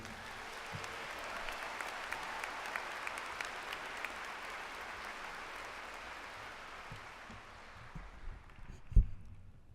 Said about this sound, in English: How about one final round of applause for all of our award recipients this afternoon?